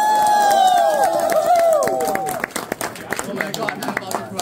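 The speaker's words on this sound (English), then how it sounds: "can we give one more round of applause for Keshki for coming all the way out?" Crowd applause and clapping for a performer at a DanceRush rhythm-game competition event, loud and dense at first with voices and cheering mixed in, then thinning to scattered claps.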